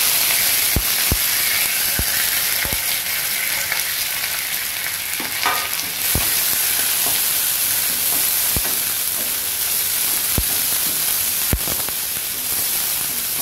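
Chopped onion, green chili and curry leaves sizzle and hiss loudly in a hot pan for a tamarind okra dish, with a steady frying roar broken by sharp periodic clicks of a spoon stirring against the pan.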